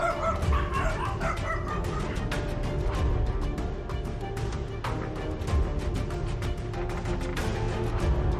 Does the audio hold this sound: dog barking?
yes